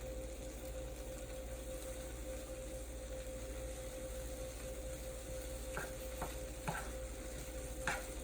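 A Caribbean stir fry is stirred in a pan under a constant low hum, with a soft sizzle and a few brief scraping taps of the utensil toward the end.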